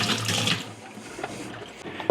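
Water runs and splashes inside a Pinter 3 beer keg during a rinse, a steady faint wash of liquid that stops briefly and then sloshes again.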